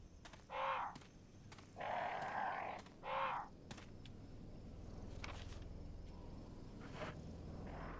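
Crows caw in the Resident Evil remake, three loud harsh calls in the first few seconds over a low ambient rumble, followed by quieter game atmosphere with faint distant sounds.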